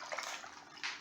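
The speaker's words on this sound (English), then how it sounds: "We pour in almond milk." Almond milk pours into a blender for a smoothie, a steady close liquid splash and trickle running throughout with a brief louder gush near the end.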